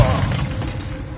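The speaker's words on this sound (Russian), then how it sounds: "Граната, беги!" Grenade explosion in a video game, a short, loud blast with debris-like crackle that decays within about a second.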